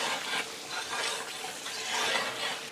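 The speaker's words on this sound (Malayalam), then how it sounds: "അങ്ങനെ നമ്മുടെ മസാലകളും അതുപോലെ നമ്മുടെ വെജിറ്റബിൾസ് ഒക്കെ ഇട്ടിട്ട് നല്ലോണം നമ്മൾ വഴറ്റിയെടുക്കാണ്" Masala and vegetables sautéing in a pan for a big batch of Maggi noodles, a steady close sizzle with stirring scrapes running throughout, no voices.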